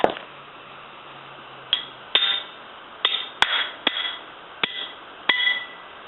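Metallic clanks and knocks from a wrench worked on a NOx sensor, about eight sharp separate strikes spaced irregularly over a few seconds, fairly close, with a faint low hum beneath at the start and no talking.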